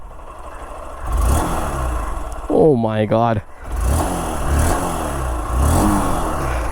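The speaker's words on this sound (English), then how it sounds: "Let me give a bit of a throttle too." A Honda Unicorn motorcycle engine rises and falls through several revs over a running idle, with a man's excited exclamation in the middle.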